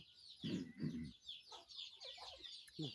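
Hens cluck in short, rapid bursts close by, with a few higher squawks scattered between the calls.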